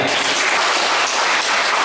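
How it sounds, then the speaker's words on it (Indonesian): Loud, dense applause from the audience at a NasDem party regional working meeting in Kediri, a steady wash of many hands clapping for the whole short stretch with no voices over it. "Tepuk tangan untuk panitia."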